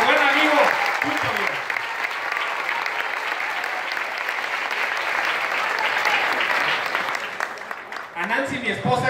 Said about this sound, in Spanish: Y les pido un fuerte aplauso para nuestro buen amigo Chucho.